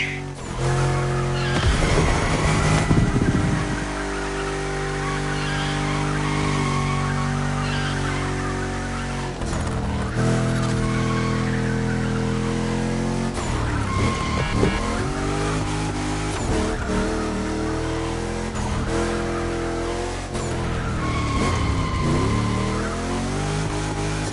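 Tires squeal and an engine revs continuously as a car drifts in The Crew Motorfest on PS5, loud and sustained with repeated pitch swings from throttle changes, music-like tonal layers running underneath.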